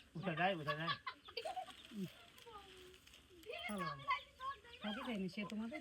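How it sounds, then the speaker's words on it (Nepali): Hens cluck and squawk in short bursts close by, mixed with chatter and a voice in an outdoor yard. "कुखुरा हेर्नु गाइजहरू यहाँ हाम्रो कति छ गाइजहरू कुखुरा हेर्नु"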